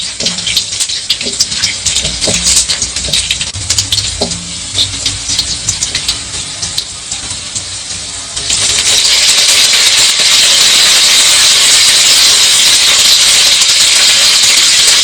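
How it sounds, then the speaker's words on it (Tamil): Garlic frying in oil, a loud continuous sizzle and hiss that runs through the whole stretch and swells noticeably louder and brighter partway through, with no voice. "பூண்டு லேசா நிறம் மாறி சிவந்து வர வரைக்கும் ஃப்ரை பண்ணிக்கலாம்"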